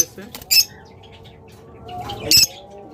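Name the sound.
birds squawking and flapping, pairs for sale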